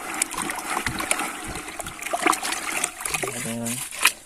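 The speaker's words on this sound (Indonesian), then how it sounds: "Selanjutnya kita akan aduk pakai tangan saja" Hand stirring a fertilizer stock solution in water for chili plants, giving soft sloshing and splashing under steady talk, with a short whistle-like sound near the end.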